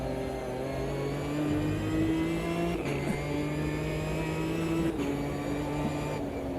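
Race car engine with twin 45 carburettor induction in the AMS2 racing game, a steady loud drone with two shifts as revs drop and climb again, running continuously through the whole stretch.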